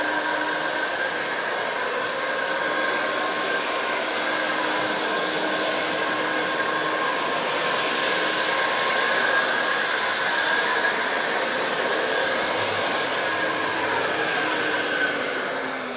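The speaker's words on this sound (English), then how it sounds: "To activate the machine, I've got my trigger. So once I activate the trigger, the machine comes up and I can start working." An i-mop floor scrubber runs steadily throughout, a continuous close whirring motor drone with a constant tonal hum and no breaks or voices.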